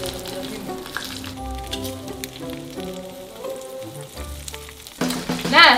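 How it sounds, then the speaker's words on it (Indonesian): Chicken sizzles and crackles steadily in hot oil over a low flame, with a louder burst of spattering frying near the end; no one speaks. "takut loh goreng ayam kayak gini."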